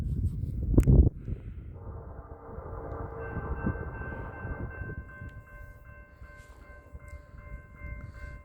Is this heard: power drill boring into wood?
no